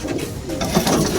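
A racing pigeon coos softly and close by in a short, low, throaty burble, set against a steady background hum.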